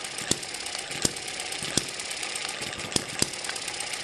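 An Eachine ET7 hit-and-miss model engine runs slowly, firing in sharp, sparse single knocks at uneven intervals over a steady mechanical hiss, close and moderately loud.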